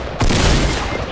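A heavy shotgun fires in Fortnite Battle Royale, one loud, close blast that booms out and rolls into a sustained, noisy tail.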